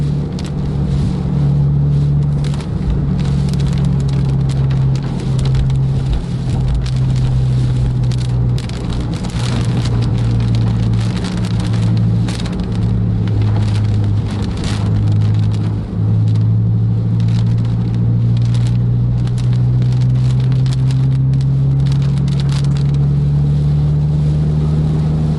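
Heavy rain pours steadily while Scania K410 buses race along, a low engine drone gradually rising in pitch beneath the dense, constant hiss of rainfall.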